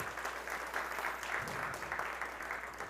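Soft, distant applause from a conference stage audience at the Devcon blockchain gathering in Bogotá, a brief, even patter of scattered clapping lasting about three seconds.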